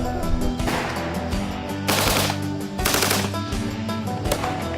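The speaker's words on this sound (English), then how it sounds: "Now we're out here blowing stuff up and shooting big guns." A .408 caliber rifle fires at a target a mile out, with two loud, sharp reports about a second apart over steady background music.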